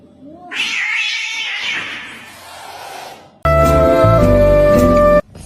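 A kitten gives a long, drawn-out meow with a wavering pitch, followed by a louder, sustained yowling cry that cuts off abruptly; both are close and alone.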